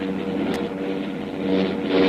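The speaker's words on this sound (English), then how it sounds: "Those motors are getting worse." Cold aircraft engines on a heavily loaded plane drone and strain, a continuous rough hum that wavers and grows slightly louder toward the end, heard alone.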